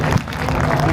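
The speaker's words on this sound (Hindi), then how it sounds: "तालियां जरा जोरदार हो जाए एक बार" Audience applause at a Chhath Puja Samiti function in Panchkula, a short burst of steady crowd clapping with some voices mixed in.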